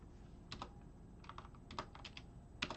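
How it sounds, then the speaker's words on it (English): Quiet bursts of typing on a computer keyboard, small clusters of close, light key clicks with short pauses between them. "I'm typing."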